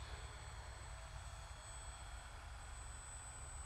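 An E-Sky 300 V2 RC helicopter in flight gives a steady, dense whirring drone with a thin high whine, holding level and unbroken at moderate distance with no talk.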